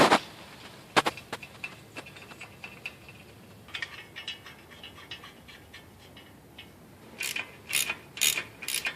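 Ratchet clicking while tightening exhaust flange bolts with a donut gasket on a CRF50 dirt bike: short bursts of close, sharp clicks, with a busier run of loud clicks near the end.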